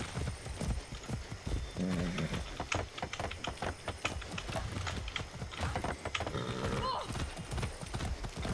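Rhythmic clip-clopping of horse hooves in the video game Far Cry 6 plays steadily up close, with a faint whinny and light mechanical clicks mixed in.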